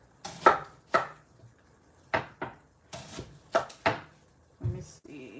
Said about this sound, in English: I'm gonna chop this one up and see if this is enough for what we're making.